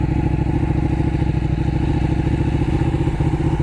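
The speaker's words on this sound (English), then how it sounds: "This is the Kawasaki Ninja 650." A Kawasaki Ninja 650 motorcycle being ridden, its engine thrumming loud and close with a fast, steady pulsing exhaust beat, no voices over it.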